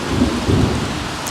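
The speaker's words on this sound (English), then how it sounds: "Even though it's storming out." Thunderstorm with steady rain in The Sims video game, a continuous dense hiss of rainfall with a low rumble of thunder underneath.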